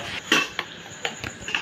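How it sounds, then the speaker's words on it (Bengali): Eggs whisked together with potatoes in a bowl for a spicy makhana egg dish, giving a few sharp, irregular utensil clicks and taps against the bowl, close and fairly quiet. "এবারে ফেটে নিচ্ছি ডিমটা আলুর সঙ্গে ভালো করে ফেটে নেব।"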